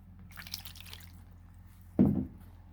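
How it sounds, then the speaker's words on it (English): Water runs off a brand new gold pan, first as faint trickling and then as one brief, louder splash near the end, close by with no talk. "The water just sheets right off from it."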